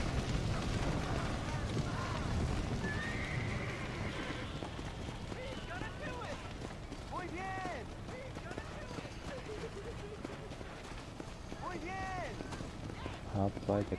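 Horse hooves clip-clopping at a run in the Red Dead Redemption video game, a rapid rhythmic beat under game noise with someone talking over it and occasional bursts of other effects.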